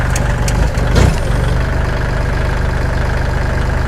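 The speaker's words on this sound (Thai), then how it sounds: "รถสตาร์ติดง่ายนะคะ เป็น รถขนาด 3 สูบนะคะ" Kubota L3608 three-cylinder 1,600 cc tractor engine idling close by, a loud steady low chugging rumble with a brief revving surge near the start, no talk.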